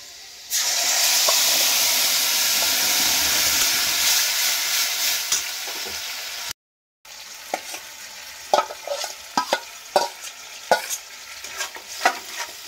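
Yardlong bean paste hits a pan of fried garlic with a loud burst of hissing sizzle. After a brief silent gap, quieter frying continues, marked by repeated clattering scrapes of a spoon stirring nearby.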